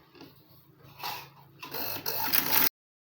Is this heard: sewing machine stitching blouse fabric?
yes